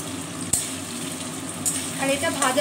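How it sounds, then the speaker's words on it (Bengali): Paneer fries in plain oil without salt or turmeric, a steady close sizzle broken by a sharp utensil click and brief stirring scrapes. "খালি তেলের মধ্যে ভেজে তুলে নেব।"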